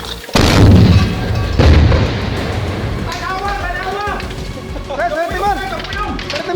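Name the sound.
gunfire during a firefight in the Marawi siege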